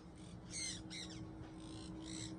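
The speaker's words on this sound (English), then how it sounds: "So this is a sun parakeet." A sun parakeet gives a run of harsh, shrill squawks, several short calls in quick succession, fairly close but not very loud over a steady low background hum.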